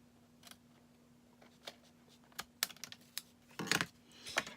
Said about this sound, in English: You just take your paper snips and just trim that off.